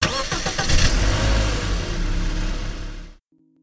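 A car engine turns over and catches, then rumbles and revs loudly for about three seconds before cutting off abruptly into silence.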